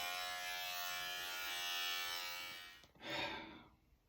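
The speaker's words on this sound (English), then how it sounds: "Your hair is a little bit more intense than the lady shaver is used to dealing with" A lady's electric shaver hums steadily and close while shaving coarse body hair, a bright continuous buzz that cuts off briefly near the end, then returns for a short burst before fading.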